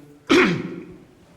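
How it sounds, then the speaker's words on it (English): A single sharp cough lands close into a microphone, a loud broadband burst that trails off over about a second, with no other voices around it. "I'm starting to cough in the microphone"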